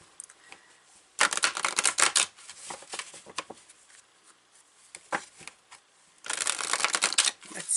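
Queen of the Moon oracle cards are shuffled by hand in two quick riffling bursts separated by softer, scattered card flicks, close and fairly quiet, with no talking.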